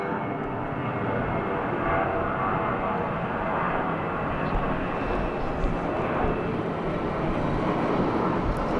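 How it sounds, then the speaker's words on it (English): A Jetstar airliner takes off at Sydney Airport around sunset, a broad, steady jet roar heard from a distance that holds at an even, moderate level throughout. "Something taking off? Jetstar."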